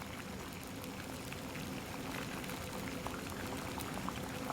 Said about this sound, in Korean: 물이 보글보글 끓고 있다.